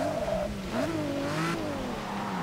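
Race car engine in Forza Motorsport 6 revving and accelerating, its pitch rising and falling through gear changes, loud and close with a faint tyre squeal, no talking.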